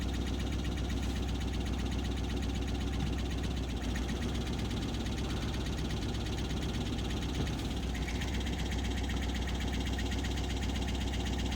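An Opel car engine idles steadily and continuously up close, a low, even running drone with faint ticking and no talking throughout.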